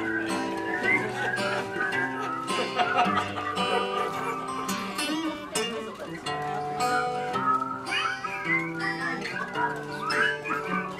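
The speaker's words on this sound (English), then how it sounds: "Everybody whistle." A concert audience whistles along with a live band during a radio show performance of a song, many overlapping whistled melody lines riding over steady instrumental accompaniment.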